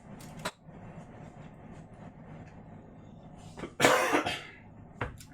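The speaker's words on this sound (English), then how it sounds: "Excuse my cough." A single sharp cough from a cook at a home stove, loud and broad, rising out of quiet kitchen background, with a fainter throat noise shortly after.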